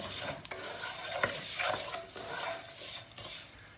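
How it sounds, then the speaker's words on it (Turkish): Bulgur crackles and sizzles as it toasts in a hot pan while being stirred, with scraping and occasional light clinks, steady and close. "Çıtır çıtır sesler gelmeye başladığında e, bulgur kavrulmuş demektir"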